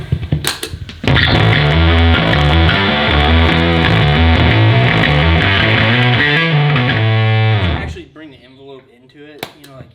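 An instrument played through a fuzz distortion pedal gives a thick, buzzy sustained chord for several seconds, loud and close, cut off abruptly and followed by a few quieter plucked notes.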